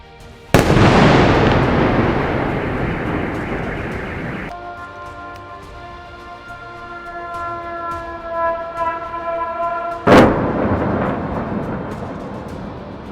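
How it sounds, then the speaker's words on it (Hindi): A missile strike explosion in Kyiv: a sudden loud blast is followed by a long rumbling decay and a lingering tonal drone, then a second sharp boom near the end. "आसमान से एक मिसाइल कीव में आकर गिरती है, जिसकी वजह से एक बहुत ही भयानक धमाका होता है"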